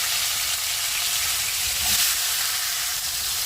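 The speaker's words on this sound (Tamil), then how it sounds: "இப்போ காலிஃப்ளவரும் நம்ம ஷாலோ ஃப்ரை பண்ணி எடுத்துக்குவோம் லைட்டாக." Marinated cauliflower shallow frying in oil, giving off a loud, steady, dense sizzle that continues evenly from start to finish.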